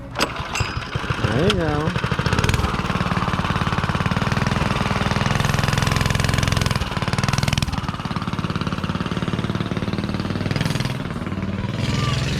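A homemade minibike's small engine sputters through a pull start, then catches and runs with a loud, close, rattling steady idle that keeps going to the end, while a person briefly speaks over it.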